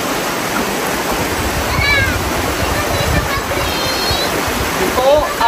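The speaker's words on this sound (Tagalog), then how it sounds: "Ito ang ilog." The Mananao river rushes loudly and steadily as a constant broadband wash of flowing water, with brief high-pitched calls and a few voices breaking through now and then.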